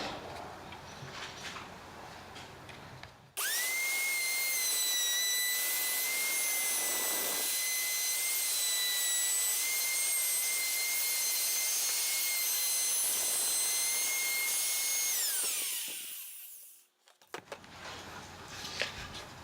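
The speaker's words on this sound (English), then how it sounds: "I've put a nice 45 degree bevel or chamfer around the edge of that board, and it was done with the router running around the board" A plunge router cuts a 45-degree bevel around the edge of a timber chopping board, its motor screaming in a steady, loud high-pitched whine for about thirteen seconds before spinning down.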